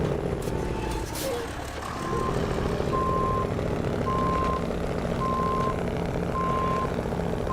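A monster truck in the SnowRunner video game manoeuvres with a loud engine drone while its reversing alarm beeps in a slow, regular series of evenly spaced tones that runs throughout.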